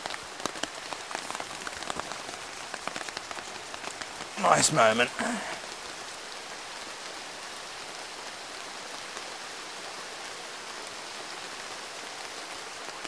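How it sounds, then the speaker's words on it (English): Steady rain falls and patters on leaves and surfaces all around in a rainforest, with a brief spoken remark partway through. "It's raining outside and the rain can't touch you."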